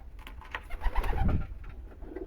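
Pigeons cooing close by, a few soft low throaty coos rising in the middle of the clip over faint background noise.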